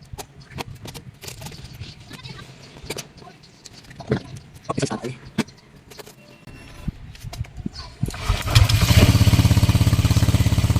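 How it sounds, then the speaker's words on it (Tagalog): A Honda Click scooter engine starts after about eight seconds and settles into a loud, steady idle. Before that, a voice talks over scattered clicks and handling noises. "On natin yung motor."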